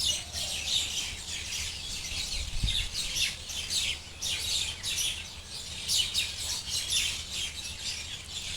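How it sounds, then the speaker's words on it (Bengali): Many birds chirp and twitter in the afternoon beside a marshy wetland, with a dense, continuous chorus of repeated high calls that rises and falls and sounds moderately distant. No one speaks. "পাখির কলরব বিকেল হইলে আর এখানে তো আমাদের বিলের পরে বাড়ি যার কারণে এখানে একটু বেশি পাখি থাকে পানির কাছে"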